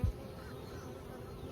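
Honeybees buzzing inside a beehive box a week after a queen was released, a dense continuous hum of many insects, steady and fairly quiet, with a short bump at the start.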